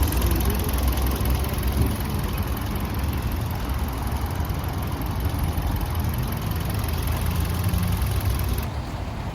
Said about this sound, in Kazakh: Азыр капотын ачып моторын жүрүшүн бир сыра көрсөтүп коеюн.